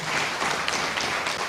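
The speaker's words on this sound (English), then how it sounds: "You can give them rounds of applause." Applause for an attorney and a senator being introduced at a live-streamed event, a steady wash of many hands clapping at moderate distance that carries on without a break.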